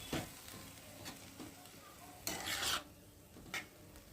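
A spoon scrapes and stirs mashed eggplant bhorta in a pan with a light sizzle, giving a few soft scraping strokes and one louder, longer scrape near the middle, quiet and close, with no talking.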